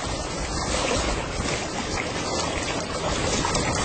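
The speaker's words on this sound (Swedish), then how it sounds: "Nu är det mycket mindre vågor." Small, gentle waves wash steadily on the Baltic Sea, a continuous broad rush of water with light wind noise and no voices.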